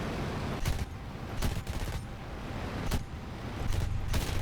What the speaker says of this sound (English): I'm gonna have to go in with guns